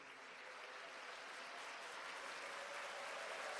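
A church congregation at a Manmin summer camp claps to welcome overseas missionaries, creating a faint, distant, continuous wash of applause that stays even throughout.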